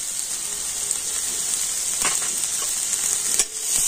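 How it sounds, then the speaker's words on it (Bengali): Finely chopped small onion and two minced green chilies fry in hot oil, producing a loud, continuous hiss with scattered crackles and pops close by. "তেল গরম হয়ে গিয়েছে আর তেলের উপর আমি দিয়ে দেবো একটা ছোট সাইজের পেঁয়াজ"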